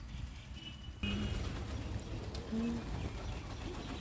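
Pigeons coo while pecking at scattered wheat grain, giving two short, low coos a little apart against a steady background murmur.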